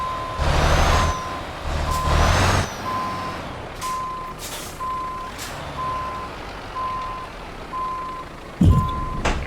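A Volvo Globetrotter truck in Euro Truck Simulator backs up with a steady run of evenly spaced reversing beeps, over engine rumble, with a brief air-brake hiss near the end.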